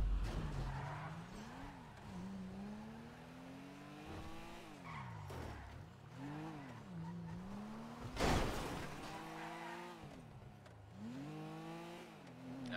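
A Corsa car in a video game drives with its engine repeatedly revving up and dropping back in pitch, and a loud tyre skid bursts out midway, all close and continuous with no talking.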